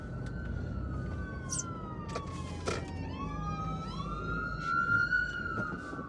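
An emergency siren wails as the vehicle passes on a multi-lane road, its rising and falling tone sliding in pitch over steady traffic rumble, moderately distant and continuous with no talk.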